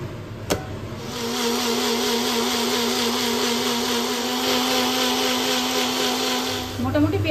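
A blender grinds tomatoes, peanuts and a little water into a paste, a loud steady high whine that starts after a short clatter and runs unbroken for several seconds before winding down.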